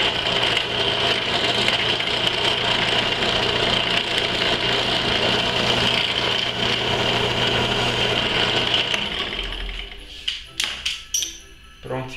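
A 7 mm metal-cutting bit drills steadily for about ten seconds, a loud continuous grinding whir that stops abruptly, followed by a few short taps and knocks while a machine for vacuum-refilling ink cartridges is being built.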